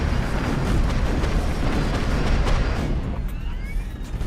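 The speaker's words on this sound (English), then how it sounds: "I believe it's a compressor stall." A loud, rough roaring blast from a jet engine compressor stall, a dense burst of noise that swells and then slowly fades.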